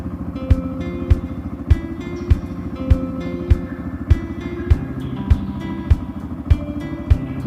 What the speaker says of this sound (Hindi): बस थोड़ा बाइक को वार्म अप करके फिर निकलते हैं